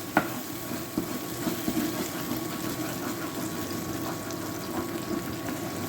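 A pasta bake mixture with Heinz barbecue beans cooks in a pan, giving a soft, steady sizzle with occasional stirring scrapes and light bubbling throughout, moderately quiet and with no talking.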